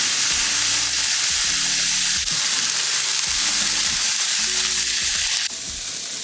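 Chicken broth comes to a boil in a hot pan, giving a steady, loud, close sizzle and bubbling with no talking.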